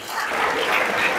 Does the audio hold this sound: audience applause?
yes